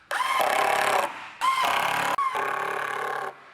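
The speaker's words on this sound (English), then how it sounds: "we first attach the model to a board using screws." Bursts of a power screwdriver driving screws through a model into a wooden board, three loud whirring runs with short pauses between, close by and without talk.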